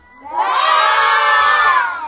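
A crowd of children at a birthday party with a magician shouts together in a loud, sustained chorus lasting about two seconds, imitating a goat's bleat.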